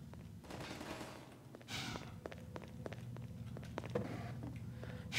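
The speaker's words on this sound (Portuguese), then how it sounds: "De onde vieram esses tiros?" Faint, scattered gunshots in Half-Life 2 Episode 2 crack repeatedly at a distance, some in quick clusters, over a low, steady background rumble.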